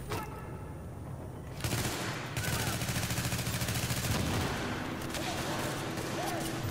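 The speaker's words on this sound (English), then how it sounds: "Here comes the grenades already." Gunfire fills a firefight in The Division shooter game, starting as a dense crackle and building into a loud, sustained rattle of rapid shots with heavier blasts mixed in. The sound is close and continuous.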